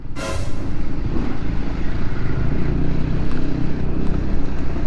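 A deep, rumbling motor scooter engine drone close by, with a low booming exhaust pulsing steadily under road noise.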